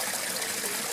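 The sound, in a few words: stream water flowing over a basket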